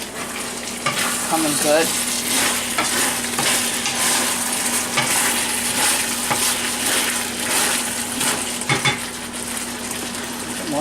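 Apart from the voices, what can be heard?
chicken with pineapple sizzling in stir fry pan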